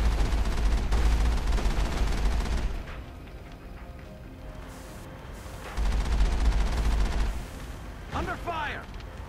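Gunfire in the video game Mass Effect, heavy bursts of rapid shots and booming impacts in two loud stretches separated by a quieter gap, with a voice speaking over the action.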